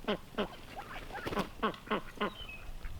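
Ducks quack outdoors in snow during sub-zero wind chill on a homestead, with several short nasal calls coming in an irregular rhythm, fairly close and clear over faint background hiss.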